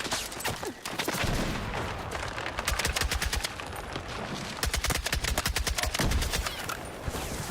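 Tap-fired gunshots in a video game, with rapid bursts of sharp cracks at close range. Short volleys repeat in clusters across the stretch against a dense background of game noise.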